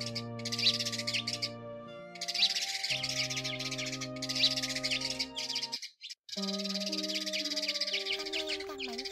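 Sparrow lure calls for a bird trap, tree sparrows and white sparrows, repeat as dense high chirps and tweets in quick bursts over steady tonal layers, loud and close, with a brief gap near the end.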